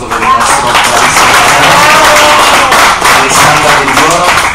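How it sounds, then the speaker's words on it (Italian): Audience applause at a poetry performance in Melito di Porto Salvo, Italy, dense continuous clapping from a crowd filling the whole stretch, loud and close. "un applauso per il nostro bravissimo"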